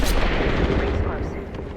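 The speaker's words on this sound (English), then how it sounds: "Enemies right here. Taking fire." Heavy gunfire in Apex Legends, an opening loud blast followed by a dense rumbling stretch of weapon fire and impacts that gradually fades, with no speech.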